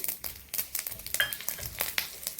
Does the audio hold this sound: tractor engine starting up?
no